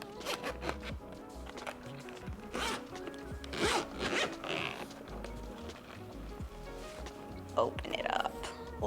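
A zipper is drawn open on a Steam Deck carrying case, close and fairly loud, with rustling and handling noise around it.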